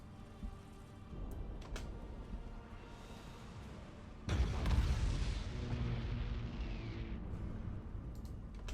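Explosions from ships in the space battle game Battlefleet Gothic Armada 2, a steady rumbling barrage with a heavy blast about midway that keeps booming and roaring afterward, with no talking.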